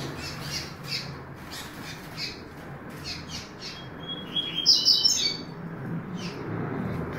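A small pet songbird, about one year old, gives a short burst of high, bright chirps midway through, over a steady background hum, with a few faint tweets around it.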